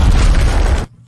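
A loud, sustained roaring blast fills the space with dense low rumble and debris noise, then cuts off abruptly into near silence, from a large explosion inside a structure of wall, cement and brick.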